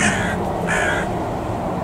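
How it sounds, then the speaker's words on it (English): A crow flying past caws twice, harsh and fairly loud, then the sound drifts off into quiet outdoor allotment background. "That was a noisy crow going past."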